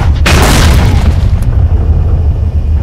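A grenade blast in the game S.T.A.L.K.E.R.: Call of Pripyat, set in an underground lab: one loud booming detonation with a deep low rumble that decays slowly over several seconds, with no talk.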